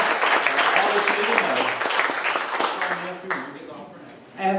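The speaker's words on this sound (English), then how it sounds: "Give her a round of applause." Audience applause and cheering at a benefit concert for a Haitian orphanage, a dense continuous clatter of clapping mixed with crowd voices that thins out and fades toward the end.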